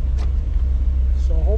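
A 1959 Chevrolet Bel Air engine idles while warming up, a loud steady low rumble throughout, with brief speech over it near the end.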